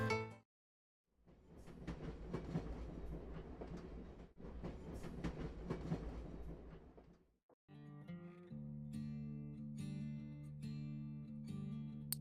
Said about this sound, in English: Let's hop on a train.